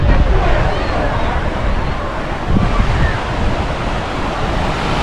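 Ocean waves on Cottesloe Beach roar loud and close, a dense continuous surf wash heavily buffeted by wind on the microphone.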